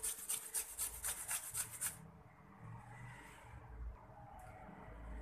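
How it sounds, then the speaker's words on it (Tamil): Potato rubbed hard against a kitchen grater in steady rhythmic rasping strokes for about two seconds, close and loud, then stopping into quiet room noise. "நம்ம இந்த உருளைக்கிழங்கு வந்து நல்லா துருவிடணும்."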